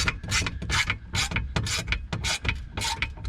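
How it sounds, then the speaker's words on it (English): A 1/4 inch ratchet clicks in quick, uneven bursts as it is cranked by hand while building saw horses, loud and close with no talk. "Good old 1/4 inch ratchet."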